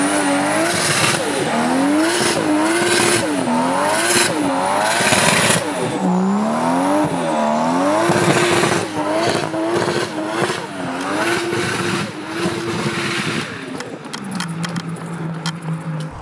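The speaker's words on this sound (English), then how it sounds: "Cut to the burnout!" A Toyota Supra doing a long burnout, its engine revving hard in rising and falling sweeps while the tires squeal continuously, loud and close, with the revs dropping away near the end.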